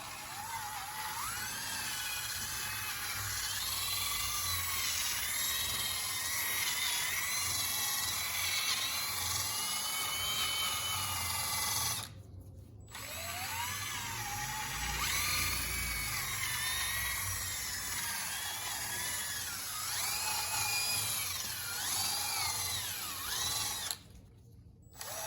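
A high, whining power sander grinds steadily for a long stretch, wet-sanding a hazy Fiat 500 headlight lens, pausing briefly twice, with a wet, gritty hiss underneath.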